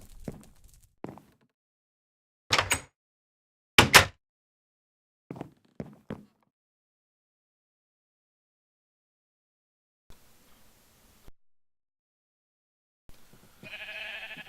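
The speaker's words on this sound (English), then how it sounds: "A ton of sheep." Several short sheep bleats from a video game, plainly sounded at intervals and fairly near, each standing alone against silence, with faint background noise near the end.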